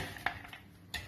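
Metal lid set onto a cooking pan on a kitchen stove, a few quiet clinks and taps close by in a short, otherwise hushed moment.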